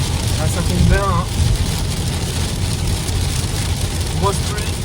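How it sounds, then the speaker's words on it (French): Heavy thunderstorm rain near Haut-Ittre, Brabant, heard from inside a vehicle: a dense, constant loud hiss and roar of rain, with a few brief voiced sounds over it. "Grosse pluie."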